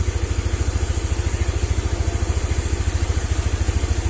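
A Honda Vario 110 scooter engine running with its battery disconnected, a steady close idle with a fast even low pulsing throb and no talk.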